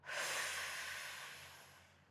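A single long, steady exhale during an outdoor breathing exercise, a close, breathy whoosh that starts strongly and slowly fades over about two seconds, with no talking.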